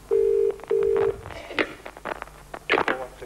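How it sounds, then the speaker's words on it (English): A telephone dials a ten-digit number: two long tones come first, then a series of quick clicks and beeps, with faint background sounds. "Takes a long time to dial out, doesn't it, these 10 digits?"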